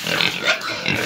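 Hungry pigs at a farm pen grunting and squealing in an excited jumble just before feeding, a brief close cluster of overlapping animal calls.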